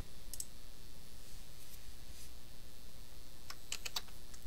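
Keystrokes on a computer keyboard while entering a subdomain, with a few quick taps near the start and a faster cluster of typing and clicks near the end, quiet and close over a soft background hiss.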